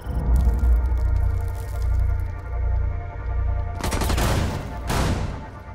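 Shotgun blasts in a Rainbow Six Siege match, a couple of sharp loud bursts in the second half over a steady low rumble of game ambience, with no talking.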